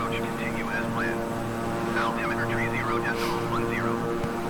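Twin turboprop engines of a Beechcraft 350 in Microsoft Flight Simulator hum and drone steadily, a constant layered tone rising slightly as power increases, with a voice speaking over it.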